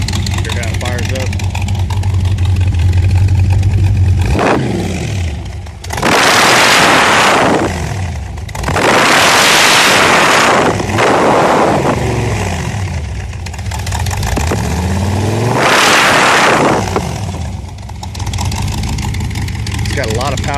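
A 1923 T Bucket hot rod with a 350 engine revs repeatedly, loud throaty surges rising and falling over a rumbling idle in several bursts, with voices talking between them.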